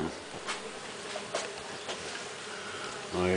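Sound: Melipona stingless bees at flowering ora-pro-nobis

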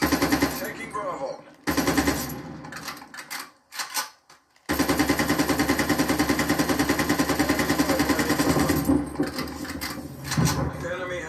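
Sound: gunfire from a video game on PS5

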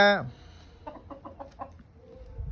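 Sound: hen clucking

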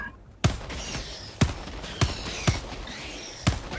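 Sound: gunfire in video game Helldivers 2

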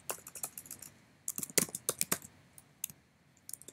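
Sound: typing on a computer keyboard

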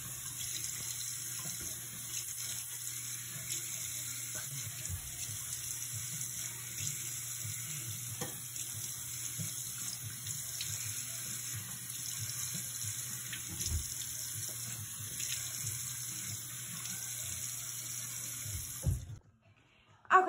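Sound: water running from a tap while washing face

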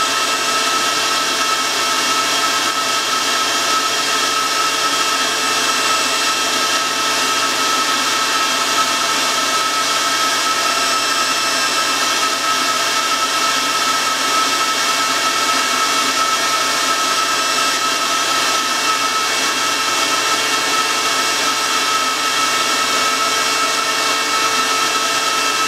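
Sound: lathe spinning DIY vacuum chuck at 500 RPM

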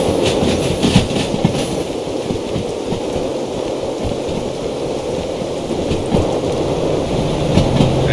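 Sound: train running, Derail Valley Simulator video game

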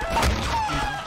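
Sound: chicken clucking in video game

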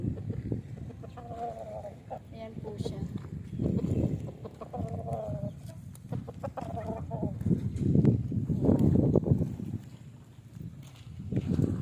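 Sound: chickens clucking

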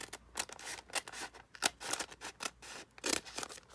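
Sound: scissors cutting a plastic bag along a line

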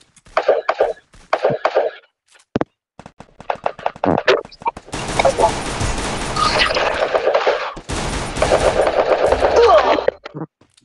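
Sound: gunfire from shooting at an enemy in a video game

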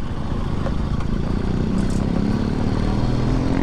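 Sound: KTM Duke 390 motorcycle engine

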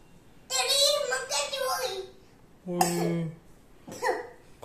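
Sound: cough

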